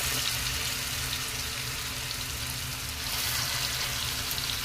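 Chicken 65 pieces deep-fry in oil for a spicy roadside-style chicken fry, giving a dense, continuous bubbling sizzle up close with no talking.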